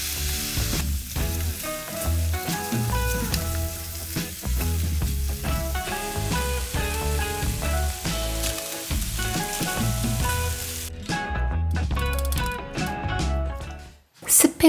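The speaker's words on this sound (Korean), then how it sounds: "만들어둔 스팸 양념장을 넣어 고르게 적셔준 뒤 앞뒤로 뒤집어가며 조리듯 구워주세요." Spam slices frying in seasoning sauce in a pan while being flipped, a steady loud sizzle over music.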